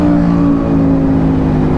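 An Aprilia Tuono 1100 V4 motorcycle with loud exhaust gives a loud, steady engine drone with a deep rumbling exhaust tone, close and continuous, with no voices.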